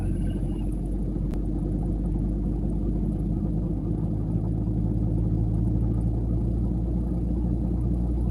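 Truck engine idling steadily, a loud, continuous low rumble with an even throb that holds unchanged throughout, with no talking.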